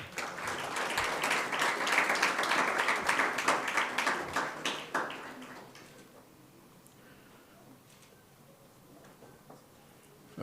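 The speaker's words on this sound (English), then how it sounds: "Round of applause" Audience applause at a Council of the Built Environment gathering with the University of Johannesburg, a gift presentation. Many hands clap densely and steadily for about five seconds, then fade to scattered claps and a quiet room.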